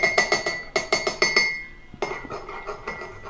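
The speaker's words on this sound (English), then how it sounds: "as that tea bag steeps in there, you just stir it around a little bit" A spoon stirs a tea bag in a glass cup, clinking against the sides in a quick rhythmic series of bright taps, pausing briefly, then continuing with softer, faster clinks close by.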